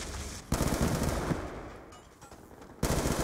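Enemy gunfire in Black Ops 2: two loud, close bursts of rapid automatic fire separated by a couple of seconds, with a fading rumble and quieter game ambience between them.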